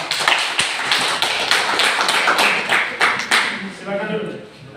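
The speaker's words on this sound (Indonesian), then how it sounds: "Sekali lagi tepuk tangan." A classroom group in Indonesia claps together, dense and lively at close range, slowly thinning out toward the end.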